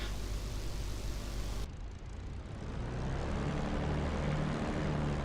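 A propeller warplane engine in a flight simulator game drones steadily, its pitch shifting as the aircraft revs up for takeoff after a brief cut, with a continuous throbbing hum and no talking.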